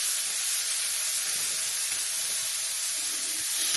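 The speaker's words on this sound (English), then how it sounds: "Oh, you hear that sizzle, guys?" Steady, bright sizzling of steak in hot grease in a pot, a dense continuous hiss filling the whole stretch without pause, close and fairly loud.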